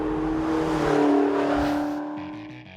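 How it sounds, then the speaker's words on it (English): A 2013 McLaren MP4-12C Spider exhaust revs hard and loud, a rising roar that eases off as the engine note drops away. "you really get a sensation of the speed kind of dramatized through the exhaust note"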